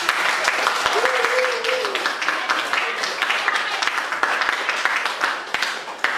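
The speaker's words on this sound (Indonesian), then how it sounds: "Berikan aplaus kepada" A classroom full of students claps steadily in dense, continuous applause for several seconds, loud and close, with a voice briefly audible underneath near the start.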